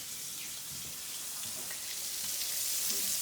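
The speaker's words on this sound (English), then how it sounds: "I just put vegetable oil in here, and all you're wanting to do is just brown it on each side" Cubed steak browning in vegetable oil in a pan, a steady soft sizzle that swells slightly louder over a few seconds, close and alone with no voices.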